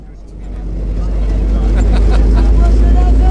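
A moving bus in Bangladesh, heard from inside: engine and road noise build from quiet to a loud, steady roar and rattle, with people talking over it.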